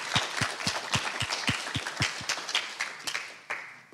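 Rhythmic clapping from a small audience welcoming the mayor of Amsterdam as an interview guest, a few distinct hand claps falling in a steady beat amid looser applause, thinning out toward the end.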